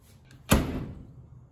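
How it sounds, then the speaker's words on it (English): A door swings shut with a single thudding slam, close and fairly loud, followed by a short fading rumble and quiet room tone. "why did the door close?"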